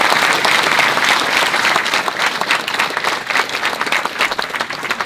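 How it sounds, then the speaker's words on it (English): A round of applause at an annual community meeting in Punta Gorda for a departing speaker named Howard, full-room clapping that is loud at first and then thins a little while staying continuous throughout. "Let's give Howard a round of applause"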